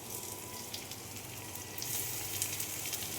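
Cooked rice goes into a hot pan a little at a time for sweet fried rice, with a soft steady sizzle that swells and grows louder and hissier partway through.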